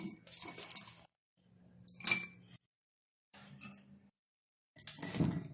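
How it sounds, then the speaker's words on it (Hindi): Crushed ice tumbles into a clay matka for kulfi falooda in four short bursts of rattling, clinking pieces, each lasting under a second with gaps of quiet between them. "अब हम इसमें कुटी हुई बर्फ डालेंगे।"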